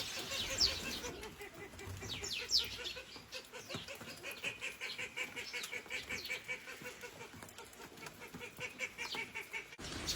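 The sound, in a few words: wild birds in a field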